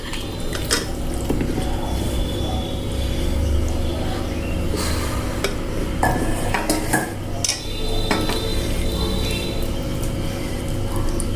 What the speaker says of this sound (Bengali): কড়াইয়ের মধ্যে আমি এগুলো সব ঢেলে দেবো